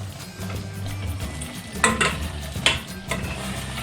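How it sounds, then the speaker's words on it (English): Curry paste with onion and tomatoes sautes over a low flame in a cooking pot, a soft steady sizzle broken by a few sharp scrapes of a utensil against the pan. "Let's saute this curry paste with the onion and tomatoes and let it cook for another 2 minutes on low flame."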